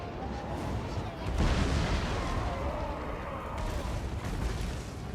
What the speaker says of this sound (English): So I'll just use the power of my artillery over here.